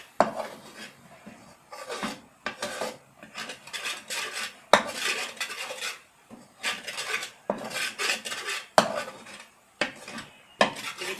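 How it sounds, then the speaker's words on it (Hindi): A spoon scrapes and stirs thickening milk-powder khoya in a kadhai over a low flame, with repeated close scraping strokes in an uneven rhythm and no talking. "सब तरफ से मुस्तकिल चमचा चलाते रहना है"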